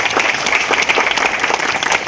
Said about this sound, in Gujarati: આપણે એકવાર જોરદાર તાળીઓથી બધા જ ટ્રસ્ટીઓને વધાવીએ